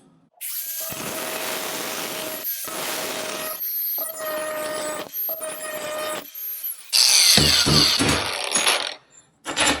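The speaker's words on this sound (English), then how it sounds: "you can use the edge of your grinder and open your hole up to where it needs to be" An angle grinder cuts and enlarges a hole in shower wall tile, a steady loud whine broken into several passes with short pauses, turning into harsher scraping and chipping near the end.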